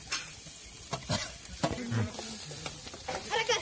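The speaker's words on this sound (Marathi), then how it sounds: "तर त्याच्यामध्ये आपल्याला कांदा टाकून लगेच परतून घ्यायचं आहे चांगला।" Chopped onion sautéing with masala in a pan, a soft sizzle under intermittent stirring scrapes and light utensil knocks, close but fairly quiet, no talk.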